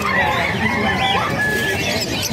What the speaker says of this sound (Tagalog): napakarami pong ibon dito